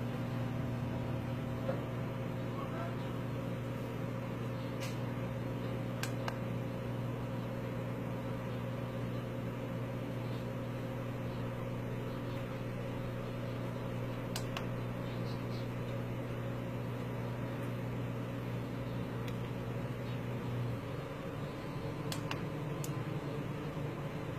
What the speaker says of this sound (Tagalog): kung gaano kalakas yung microwave